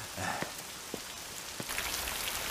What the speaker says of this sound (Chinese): 下雨了，哈哈，今天外边不用扫了